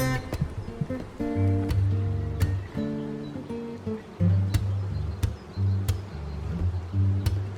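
Honey bees at an opened beehive on a spring apiary day, with a dense, close droning buzz that wavers in pitch as bees fly past, broken by sharp clicks and knocks.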